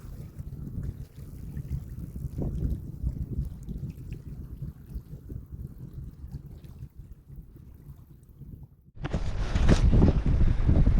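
Wind gusting across an open trail in the Merritt Island wildlife refuge during an e-bike ride, a low rumbling buffet against the microphone that swells louder in the last few seconds.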